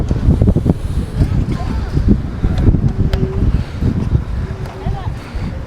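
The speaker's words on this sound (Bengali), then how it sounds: "প্রচুর বাতাস লাগে, প্রচুর হাওয়া চলে, সমুদ্রের হাওয়া" Strong, cold sea wind buffets the microphone at Lusail Marina, a low rumbling roar that runs throughout beneath a person talking.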